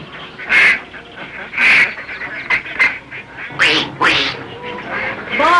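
Ducks quacking loudly and close, a series of repeated honking quacks in irregular bursts, with several birds calling over one another.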